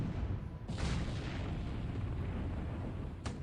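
Naval gunfire from the destroyer Kamikaze opening fire in a war strategy game, heard as a continuous low rumbling roar with a couple of sharp bursts at the start and near the end.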